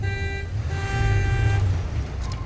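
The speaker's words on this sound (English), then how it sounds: "What was the honking for? Why did we honk?" A car horn honks in a movie scene, a steady tonal blare held for about a second and a half over low rumbling traffic-like background noise.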